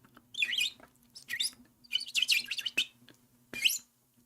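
A small bird chirps in bursts of bright, rapid twittering, four or five clustered calls with short pauses between, fairly close and clear over a faint low hum, with no talking.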